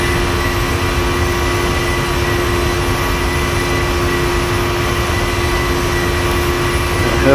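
A simulated Boeing 737-800 jet climbing toward cruise altitude in the Prepar3D flight simulator produces a loud, steady engine roar with a constant cabin drone, unbroken for the whole stretch and without talk.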